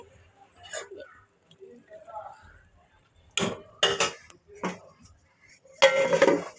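A metal lid set onto a pot of gulab jamun in a home kitchen gives a few bright clinks and clatters, close and fairly loud, separated by quiet gaps with soft background sounds.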